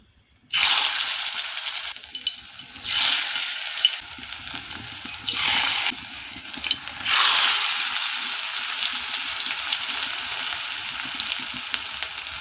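Spoonfuls of fritter (bora) batter hit hot oil in several loud bursts of sizzling, each settling into a steady, close frying hiss with no voices.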